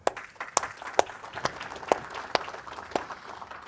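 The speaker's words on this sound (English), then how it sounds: "If you want to come up, and we'll give you a round of applause." Sparse applause from a summit audience, several sharp individual claps standing out at irregular intervals over a light spread of quieter clapping in a large room.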